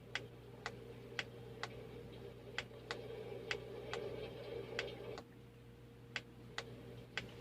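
A Feather the Owl essential oil diffuser plays its raindrop sound: faint, crisp drip-like clicks at a fairly regular pace over a steady low hum, with no one speaking.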